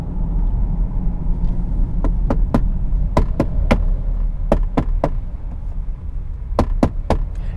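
Knuckle knocks on the hollow-feeling interior door card of a 2017 Jaguar F-Pace 2.0d R-Sport, arriving in sharp clusters of two and three taps over a steady low cabin hum, with no talking.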